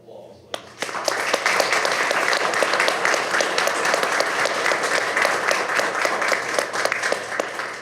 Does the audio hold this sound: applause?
yes